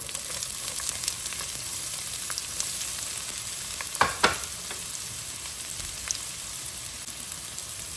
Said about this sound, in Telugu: ఇప్పుడు ఉల్లిపాయ ముక్కలు వేస్తున్నాను